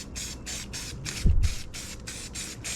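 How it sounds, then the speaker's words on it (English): Rhythmic bursts of aerosol spray paint applied through a stencil for camouflage, about nine short hisses in a steady on-off pattern, with a brief low thump partway through. "Spot spraying and using a different stencil"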